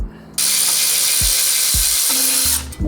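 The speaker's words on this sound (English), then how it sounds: "We're going to take these 2 bolts out of this brake caliper." A ratchet wrench clicks rapidly and loudly at close range while loosening the two brake caliper bolts on a Toyota 86, with a few short pauses between bursts.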